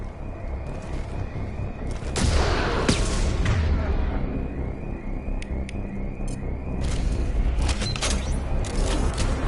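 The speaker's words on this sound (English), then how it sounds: "Use the grenade launcher to take them out." In the Mass Effect 2 video game, a grenade launcher fires at mechs, giving a few heavy booms and blasts over a steady rumbling game soundscape with mechanical noises.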